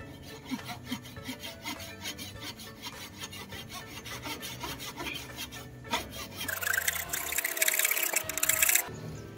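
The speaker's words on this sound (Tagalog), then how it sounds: "Pero ako this time gagamitin ko ay lagari." Hand saw cutting holes into 2-inch PVC pipe, a steady back-and-forth rasping in quick strokes, close and fairly loud, with a harsher burst of cutting near the end.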